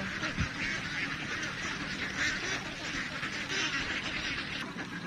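Penned ducks quack steadily as a busy, dense flock close by, a continuous chorus of overlapping calls with no clear pauses.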